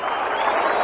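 A baseball stadium crowd at a 1978 World Series game involving the Dodgers makes a brief, steady roar of cheering that fills the background.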